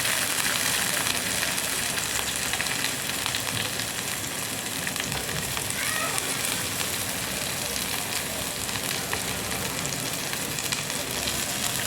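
Onion, garlic, ginger and chilli fry in a pan while chicken with arum leaves is being cooked, giving a steady, dense sizzle that runs evenly through the whole stretch without pauses.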